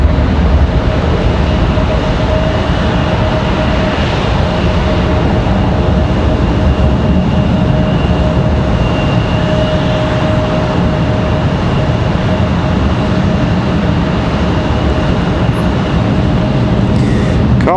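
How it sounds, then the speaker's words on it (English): Boeing 737 MAX 9 jet departing Raleigh Durham International for Reykjavik, a steady loud roar of engines with a faint whine running unbroken throughout, no pause or fade. "Our MAX 9 back to Reykjavik"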